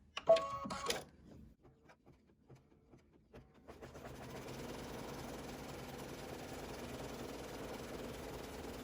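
Embroidery machine sewing a zigzag stitch on quilt appliqué pieces, starting with a few clicks and clunks before settling into a steady, fast, even mechanical whir that runs on at moderate volume.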